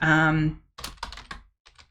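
A short burst of keyboard typing, several quick irregular clicks up close following a brief sustained tone at the start.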